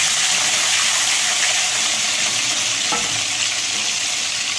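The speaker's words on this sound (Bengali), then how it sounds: "ডিমগুলো আমি সব চিড়ে চিড়ে নিয়েছি, দিয়ে দেবো এবার।" Beaten eggs poured into hot oil in a pan, giving a loud, steady, continuous frying sizzle with a brief bubbling pop partway through.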